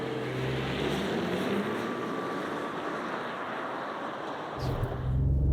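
A 2024 Volkswagen Touareg R performance SUV launches and pulls hard toward 120 km/h, heard from inside as a broad, steady roar of engine and road noise, with a brief shift in tone near the end.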